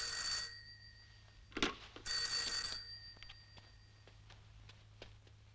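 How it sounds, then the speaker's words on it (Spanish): An old telephone bell rings in two loud, shrill bursts close by, followed by quieter clicks and handling sounds with no voices. "No vuelvas a tomar el teléfono cuando suene."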